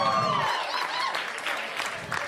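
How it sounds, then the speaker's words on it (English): Enthusiastic clapping from a stand-up comedy audience fills the room, steady and dense throughout, with a few cheers mixed in. "round of applause"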